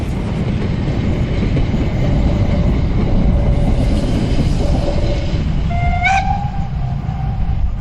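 Steam locomotive train on a line in the Harz mountains, a steady rolling rumble of running gear and carriages throughout, with a short high whistle blast rising near the end.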